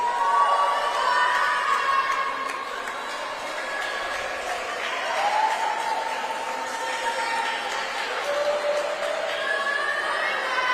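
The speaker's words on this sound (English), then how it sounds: "All swimmers clapping for the Mansfield swimmer in lane 6" Swimmers at a high school swim meet clapping and cheering for a Mansfield swimmer in lane 6, a sustained wash of crowd shouts and whoops echoing through an indoor pool, with no clear speech standing out.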